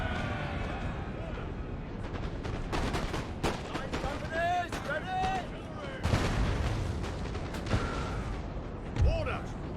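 Napoleonic battle in Napoleon: Total War: repeated musket volleys and booming artillery shots crack out irregularly amid battlefield clamor, with shouted voices and other battle sounds mixed in.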